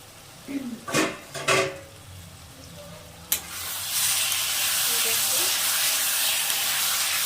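A pot lid clatters off a simmering cauliflower and egg curry after five minutes of covered cooking, with a few metallic knocks followed by a sharp clink and then a steady, rising hiss of steam and sizzle.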